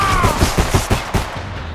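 Rapid gunfire in the video game Homefront, a quick burst of about six loud, close shots in steady rhythm, then a fading tail, with no talk.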